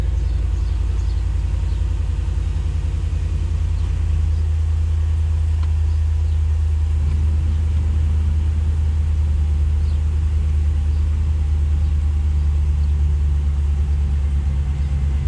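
A Chevy Silverado truck engine runs steadily with its fan going, a loud, continuous low rumble and hum that holds even throughout, with no talking.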